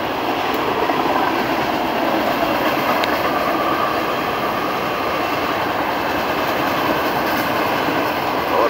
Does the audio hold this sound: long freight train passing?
yes